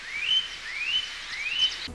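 Birds in the background of a Thomas & Friends episode: three rising whistled calls repeat steadily at moderate distance, each sweeping upward and then holding, with faint ambience between them.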